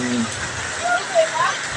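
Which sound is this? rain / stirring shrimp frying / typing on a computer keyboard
rain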